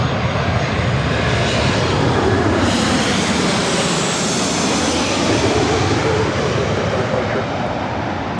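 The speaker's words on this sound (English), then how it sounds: "This arrival is United Airlines 565 coming in from San Francisco on the 737-800" A United Airlines Boeing 737-800 jet arriving at LAX, its loud, steady engine roar filling the whole stretch with a broad rushing tone that shifts in pitch as it passes close by.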